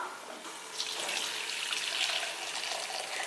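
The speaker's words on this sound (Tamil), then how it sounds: "நம்ம வந்து 1 டம்ளர் அளவுக்கு தான் தண்ணி ஊற்றுறோம்." Water poured from a tumbler into partly cooked mutton in a pot for dum biryani, a steady splashing pour lasting a few seconds, close and moderately loud with no talking.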